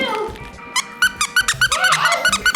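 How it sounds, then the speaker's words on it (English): A squeaky stuffed bird toy is squeezed repeatedly, giving a rapid series of sharp, close, high squeaks in quick bursts with a brief pause at the start. "A squeaky bird."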